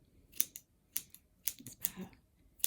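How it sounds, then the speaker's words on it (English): Scissors snip repeatedly in quick, crisp bursts trimming a yarn pom-pom, about eight sharp cuts with short pauses, close up in a quiet room. "So I'm just going to get these scissors."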